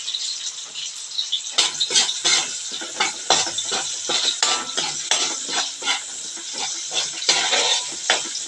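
Onion cooks in a pan for ginataang pusit, a bright crackling sizzle with repeated scraping and stirring clinks of a utensil, close and moderately loud, without speech.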